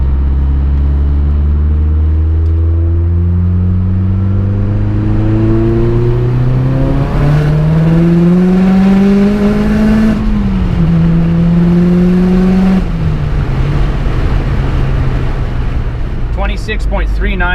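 A big-turbo Mazdaspeed 3 running about 26 psi of boost in a third-gear roll-on, its engine note loud and close as it climbs steadily in pitch through a long pull, with a brief dip near the end.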